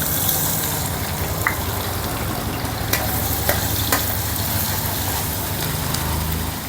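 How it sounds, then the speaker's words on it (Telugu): Onions frying in a pan until light brown for a carrot curry, a steady, loud, dense sizzle with a few faint clicks of stirring, close by and without talk. "ఈ ఉల్లిపాయలు ఎక్కువ బ్రౌన్ కలర్ కాకుండా లైట్ బ్రౌన్ కలర్ వచ్చేంత వరకు వేపుకుందాం"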